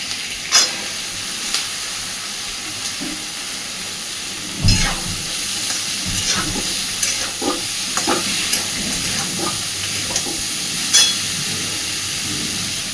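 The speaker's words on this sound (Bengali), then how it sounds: "একটু হালকা হাতে নাড়াচাড়া করে দিয়ে দিয়ে দেব দিয়ে দেব কেটে নেওয়া সবজি" Chopped vegetables are stirred and fried in a pan for fish roe curry, giving a steady sizzle under repeated scraping and clacking strokes of a spatula, with a few sharper knocks.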